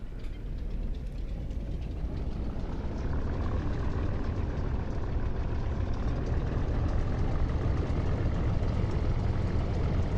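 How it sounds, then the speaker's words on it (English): The Spitfire LF IX piston engine idles in the DCS flight simulator, a low, rough, continuous rumble that grows slightly fuller and stays steady, with no speech. "Already the engine seems a little bit cranky."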